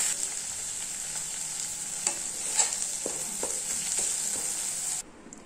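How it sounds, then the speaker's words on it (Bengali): Crushed garlic frying with a dry fish filling, stirred in a pan: a steady, hissing sizzle throughout with soft scraping strokes of the spatula, cutting off abruptly near the end. "তার জন্য আমি থেতো করে রাখা রসুনগুলো দিয়ে দিচ্ছি। এটাকে একটু নেড়ে তারপরে আমি শুকাবো"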